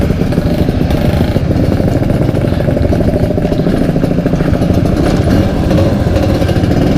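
A Vespa scooter starts out from Pandawa Beach in Bali toward the Bali Mandara toll road. Its small engine gives a loud, buzzing, steady drone close up, with a constant rattling throb and no breaks.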